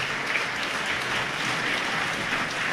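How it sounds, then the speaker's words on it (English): Applause from a boxing crowd after a women's fight at a Peach Boxing event, steady broadband clapping sustained throughout at an even level with no break. "Big round of applause for Erin Walsh"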